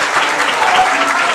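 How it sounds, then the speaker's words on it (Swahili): An audience bursts into loud, dense clapping, a continuous wash of applause filling the short moment without pause. "Mpigeni makofi jamani"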